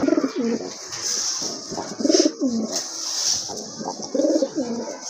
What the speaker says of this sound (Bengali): আর এক জোড়া কবুতর দেখতে পাচ্ছেন খুবই চমৎকার এক জোড়া কবুতর